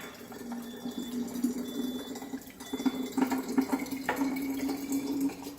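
Water from a Kangen water ionizer machine streams steadily into two bottles at once, a continuous close splashing pour that fills them, with no talking.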